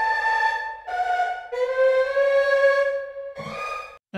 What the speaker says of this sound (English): Let's do this impressionist Erhu, another Erhu basically here.